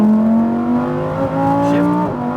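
Lamborghini Huracan STO at full throttle on the Las Vegas speedway, a loud, close engine note climbing steadily in pitch, with brief dips at gear shifts before rising again.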